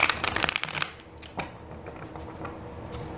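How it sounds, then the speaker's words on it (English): A quick burst of tarot cards being riffled and shuffled, crisp and close, then softer slides and taps as the deck settles. "Give it one more good shuffle."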